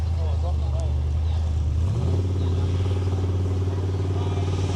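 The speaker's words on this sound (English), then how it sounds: "Cooley's car sounded like a bloody Southern 80 boat." A rock-crawling car engine drones loud and steady nearby, then its revs climb and hold at a higher pitch, rough and booming over a bumpy rock course.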